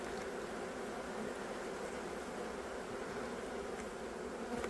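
Honeybees buzz in an opened hive at season's end, a dense, continuous, even drone filling the whole stretch at moderate loudness, close by and without talk.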